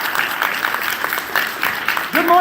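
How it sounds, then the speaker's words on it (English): Applause from a TFCon convention panel audience, moderate clapping with a few louder bursts, fading as a voice begins speaking near the end. "Big TFCon round of applause."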